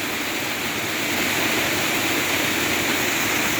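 Steady broadband roar of a waterfall near Sürmene, Trabzon, in the Black Sea region, loud and unbroken throughout with no voices over it.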